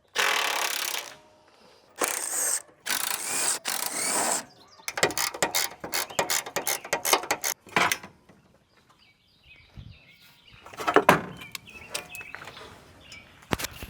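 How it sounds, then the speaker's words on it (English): Metal bars being unbolted and pulled off a car during junk engine removal, with bursts of ratcheting and tool clatter, scattered clanks and pauses, close and moderately loud. "I'll go ahead and take both these bars off next."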